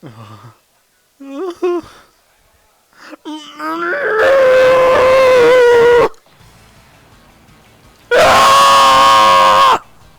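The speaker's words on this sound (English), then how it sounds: "Okay, it's fun doing yells." A man lets out loud, drawn-out yells in two long sustained bursts, preceded by a few shorter, quieter vocal cries, all close to the microphone.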